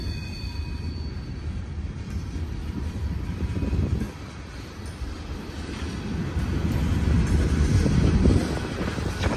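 A heavy rumbling Union Pacific freight train with manifest cars and auto-racks rolls past nearby, its low roar and rattling cars building steadily louder without any voices.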